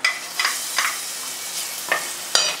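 Chopped onion fries in butter and olive oil in a pan for risotto, making a soft steady sizzle broken by a few sharp stirring scrapes and clicks at close range.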